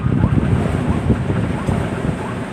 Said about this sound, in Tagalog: Parang mahangin yata Lolo.